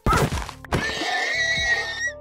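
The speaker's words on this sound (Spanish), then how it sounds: "El caballo." A Minecraft horse lets out a shrill, wavering whinny in the game after a couple of sharp thunks, loud and close, trailing off near the end.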